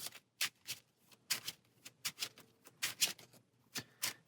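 Playing cards being shuffled for a Marvel Champions game, a quick irregular series of soft, close riffling and tapping bursts, fairly quiet and alone without talk.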